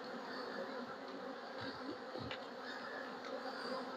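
Honeybees in a hive box give a faint, continuous buzzing hum that stays steady throughout, with a few soft knocks in the middle.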